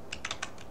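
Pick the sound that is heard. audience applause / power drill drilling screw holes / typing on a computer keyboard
typing on a computer keyboard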